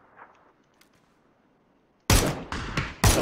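Loud PUBG gunfire at close range, a sudden burst of heavy shots after near silence, then two more blasts in quick succession, with no talking.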